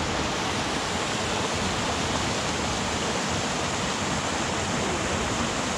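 Fast white water in an alpine mountain stream rushes in a loud, steady, broadband roar that fills the whole clip, close and unbroken, with no voices.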